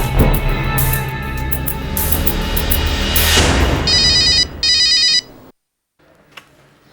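A telephone rings in two bursts of electronic trilling over a loud, droning scene. Silence follows, then a faint click.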